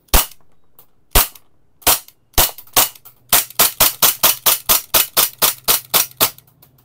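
Umarex GHK G17 Gen 5 MOS airsoft pistol firing about twenty sharp, loud shots close by, first a few spaced single shots, then a fast steady string, with no talk.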